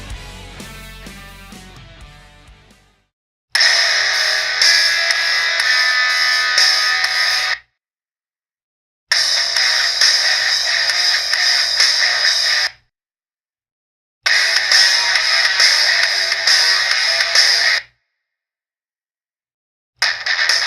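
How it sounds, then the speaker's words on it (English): Swing effects from the Swing 2 grouping of the "Hardwired" lightsaber sound font: after a brief chiming intro, three long, loud, buzzing swoosh bursts of about four seconds each, separated by silence. "Now let's take a look at some effects from the Swing 2 grouping."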